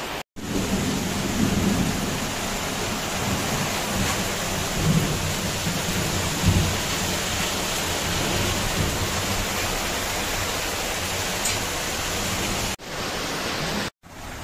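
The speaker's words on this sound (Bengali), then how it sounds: "যেহেতু আজকে বৃষ্টি পড়ছে" Steady rain pouring down with a low rumble of thunder rolling underneath, a constant wash of dense drops heard close by, with no voices.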